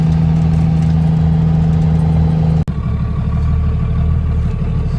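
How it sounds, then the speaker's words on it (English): A turbo race truck fitted with a new turbo and rattly nitrous bottle brackets pulls through the gears. A loud, steady engine drone is cut by a brief sharp dip at a shift, then it resumes with a throatier, clattering note. "just a little go through the gears here"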